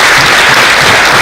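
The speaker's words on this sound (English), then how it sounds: "So I want you to give yourselves a round of applause." A short, loud burst of crowd applause at a community gathering, dense clapping close and continuous without any speech over it.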